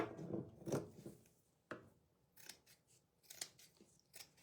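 Fabric scissors snipping through lace strips, a series of short crisp cuts and rubbing sounds, close and fairly quiet with no talking.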